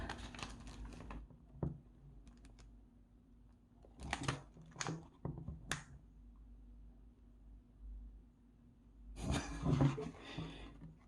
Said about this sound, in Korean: 요 비닐루 봉지에 빳빳한 면으로 한번 긁어 보겠습니다.